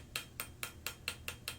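A hammer peens a rivet on a medieval-style folding knife, seven sharp metallic taps in an even, quick rhythm, close and distinct with nothing else heard.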